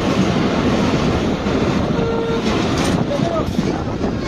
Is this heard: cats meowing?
no